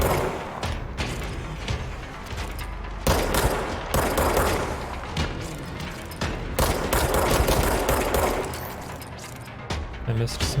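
Rapid bursts of gunfire and weapon shots in the video game Control, dense and loud throughout, mixed with mechanical clicks and game effects, with a voice talking over parts of the action.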